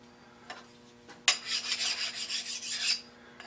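Reground cutter on a small lathe taking a cut through metal on cross slide work, a short grinding rasp that swells and holds for about two seconds after a few faint touches, close and alone.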